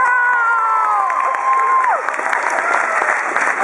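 An audience at a university talk claps and cheers loudly and steadily for several seconds, with whoops and shouts rising over dense, continuous applause.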